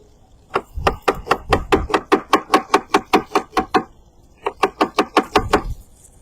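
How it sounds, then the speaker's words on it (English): A knife chops onions on a cutting board in a kitchen, with rapid, evenly spaced sharp knocks in a long run, a brief pause, then a shorter burst. "But first we're going to cut up some onions."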